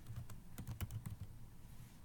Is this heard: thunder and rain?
no